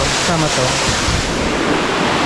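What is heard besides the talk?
waterfall at an infinity pool in Catanduanes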